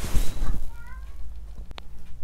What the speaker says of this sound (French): Je crois que vous allez entendre le chat qui miaule.